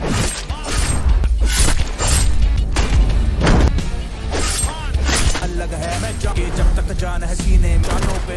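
Rapid gunfire and sharp impacts crackle continuously, loud and dense, with crashes and shattering in a chaotic action-scene shootout.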